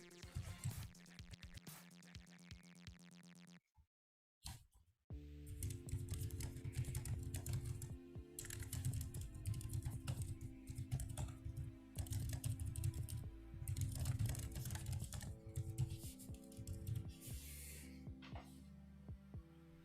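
Rapid, dense clicking of a computer keyboard being typed on, heard close and continuous after a brief gap near the start, with a low hum beneath.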